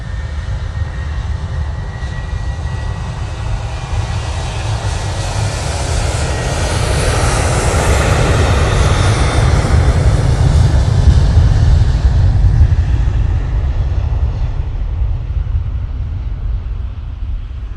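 A Turkish Airlines jet passes over Manchester Airport, a loud continuous engine roar that swells toward the middle and slowly fades as it moves away, with no speech.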